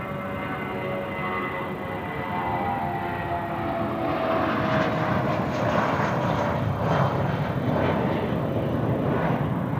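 A Qantas Airbus jet airliner at Sydney Airport gives off a steady, broad engine roar that swells slightly partway through, heard at a distance with no one talking nearby.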